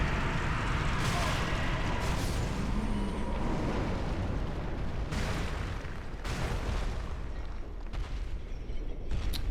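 An enemy blowing up in Dark Souls 3 combat: loud, dense blasts and bursts of noise fill the scene, with several sharper booming surges standing out among continuous rumbling game sound, and a voice talking over it.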